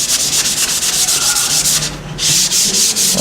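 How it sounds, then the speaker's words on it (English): Sandpaper rubbed by hand over a wooden guitar neck, rapid rhythmic back-and-forth scratchy strokes, close and loud, with a brief pause midway, no talking. "so gonna sand it again."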